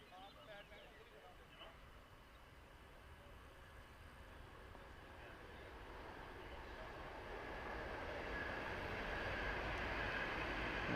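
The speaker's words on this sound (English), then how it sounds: "That's the horn, and then there goes the train." A train rumbles past near a cricket ground, a distant horn sounding early on before a broad, steadily swelling roar of the passing train builds toward the end, with a commentator talking over it.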